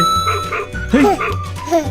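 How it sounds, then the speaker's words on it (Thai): A toy hammer plays a tinny electronic dog barking, several short yaps mixed with a little chime-like melody, close and clear. "มีเสียงหมาด้วยฮะ"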